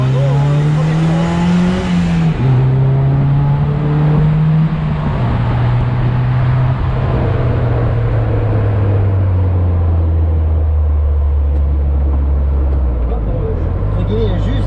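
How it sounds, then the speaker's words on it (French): Renault-engined fun buggy of about 105 horsepower accelerating hard, loud close engine revving through rising pitch, a brief drop at each gear change, then climbing again with a buzzy, raw tone. "Le moteur Renault, il prend des tours."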